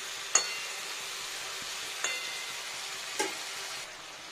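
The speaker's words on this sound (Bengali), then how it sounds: "আর একবার নাড়া দিয়ে দিয়ে উল্টো করে দিই।" Sliced ridge gourd and potato frying in a pan with a steady soft sizzle, broken by three light spatula scrapes and clinks as the pieces are stirred and flipped.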